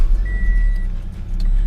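A 2015 Subaru BRZ starts by push button: a brief electronic tone, then a low steady engine rumble that stays close and loud.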